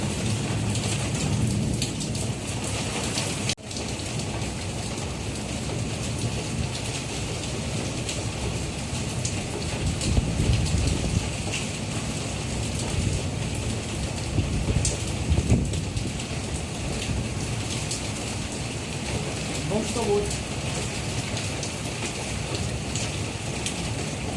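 Heavy rain pours steadily through the night in Karachi, a dense continuous hiss of drops on surfaces with thunder rumbling low beneath it and no voices.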